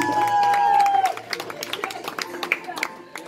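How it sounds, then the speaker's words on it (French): Scattered audience clapping and cheering at a geek-themed New Year's Eve comedy concert, fading after a brief high tone and dwindling to individual claps, with talk mixed in. "On l'applaudit très fort."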